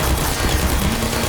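Automated turret gunfire in a video game, a steady dense burst of rapid shots running continuously at even loudness throughout.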